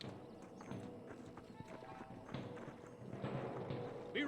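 Horses' hooves clip-clopping on dusty ground in the Red Dead Redemption video game, uneven clattering steps that grow louder toward the end, with a voice talking over them.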